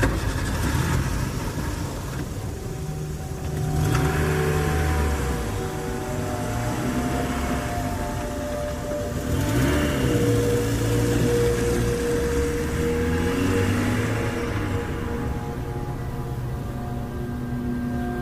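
A car drives at night along an unlit road through an accident-prone stretch. A close, steady engine drone rises and falls gently in pitch with continuous road rumble, with no voices.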